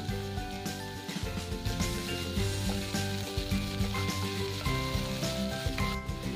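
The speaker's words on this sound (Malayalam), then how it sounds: "ഇതൊന്ന് വഴറ്റി എടുക്കണം" Sliced onion sautés in hot oil in a pan for masala dosa, giving a steady, soft sizzle with light stirring, heard under background music.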